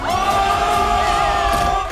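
A large crowd cheers and whoops loudly and continuously at a Beast Games reunion, with a steady, dense roar of many voices and some higher yells rising above it.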